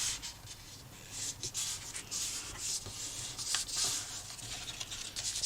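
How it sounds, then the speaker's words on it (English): Glued paper box being folded in half by hand, a steady close papery rubbing and creasing with soft scrapes running throughout. "I'm going to fold this in half"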